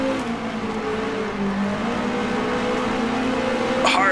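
A 1966 racing car in Grand Prix Legends, on the 1966 New Zealand Grand Prix Tasman Series circuit, drones loudly and continuously as the engine accelerates under full throttle, its pitch climbing steadily.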